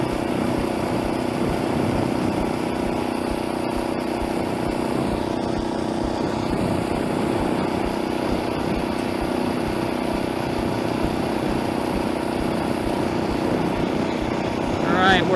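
A Honda GX120 engine on a motorized bike putters along at a steady drone while being ridden uphill, with wind noise and a constant engine hum throughout.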